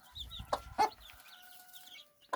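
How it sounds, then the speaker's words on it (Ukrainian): A few short chicken clucks and squawks close by, scattered bursts over quiet background with faint rustling. "Це простяковські кури."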